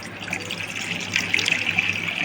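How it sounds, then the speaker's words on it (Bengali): Water draining from chhena, fresh cheese made for rasgulla in a home kitchen: a steady, close splashing trickle and gush that keeps going without a break, alone with no voices. "এরপর আমি একটা শিলনোড়া দিয়ে এর মধ্যে আমি জলটা যেটুকুনি থাকবে ওইটুকুনি ঝরে যাবে"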